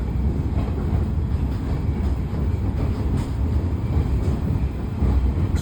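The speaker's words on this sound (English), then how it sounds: "It's a steam locomotive after all." Steady rumbling ride behind a Shay steam locomotive at the Illinois Railway Museum, with continuous low mechanical clatter and rolling noise, some wind buffeting, no voices.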